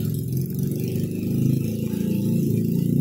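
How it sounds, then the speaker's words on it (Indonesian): A motorcycle engine idles nearby, a steady low rumbling drone with a slight rattle, continuous and fairly loud for the whole stretch. "suara motor teman-teman kedengaran ya"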